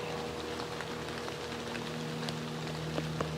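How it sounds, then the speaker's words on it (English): Steady rain falls outdoors in the Wisconsin woods near an apple tree, a dense even patter with occasional louder drops against a constant low hum, and no voices. "So what we're hoping is the rain stops"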